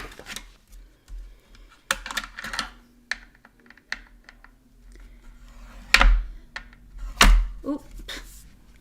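A paper card base is folded and creased on a scoreboard, producing a series of soft taps, thunks and sliding scrapes at irregular intervals in a quiet room.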